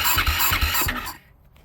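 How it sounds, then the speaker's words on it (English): 2010 Husaberg FE570 motorcycle engine being cranked: a few quick rhythmic starter churns in a short burst that fails to catch, then drops to near silence. "So I'll fire it up, key on."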